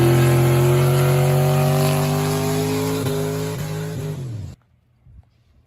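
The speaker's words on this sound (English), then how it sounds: "here's the challenge of burnouts for distance" A car engine holds a loud, steady high-rev drone during a burnout-for-distance challenge, played back from a video. The pitch wavers and drops before it cuts off abruptly into near silence.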